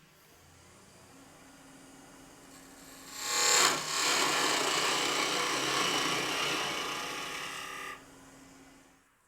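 A turning gouge cuts spindle end grain on a wood lathe, a close, loud, continuous shearing hiss that swells abruptly, holds for several seconds, then stops, with a faint motor hum underneath.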